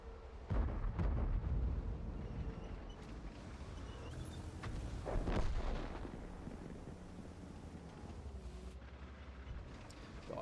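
Tank cannon fire in a World of Tanks battle as the IS-7 engages low-health enemies: heavy booming blasts with rumbling low-end roll-off, a couple of distinct shots rising out of a constant engine-and-ambience bed, no voices.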